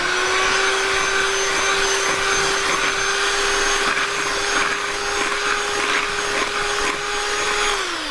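An electric mixer beats sour cream batter for a baked dish, giving a steady, loud motor whine that holds an even pitch for the whole stretch, with no talking.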